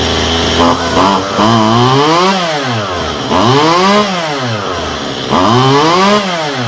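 A Stihl MS171 chainsaw runs sluggishly after a carburetor cleaning. The engine is loud and close, revving up and sagging back in three or four slow, labored swells over an uneven idle.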